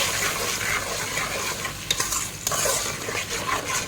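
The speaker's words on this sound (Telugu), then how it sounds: "దీన్ని బాగా ఫ్రై చేసుకోవాలి కొద్దిసేపు" Tomato paste frying in a pot for mutton rice, stirred continuously, making a loud, close, crackling sizzle with scraping strokes and no voices.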